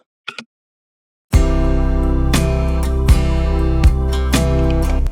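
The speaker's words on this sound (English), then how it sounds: "Check out the snare in the beginning of the song." After a brief faint sound and a pause, a dense music mix starts with sharp snare hits cracking through at regular intervals.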